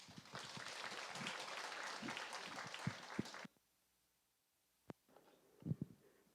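An audience at a redevelopment briefing applauds for the committee chairwoman, with steady clapping for about three and a half seconds before it cuts off, followed by quiet, a sharp knock and some handling sounds.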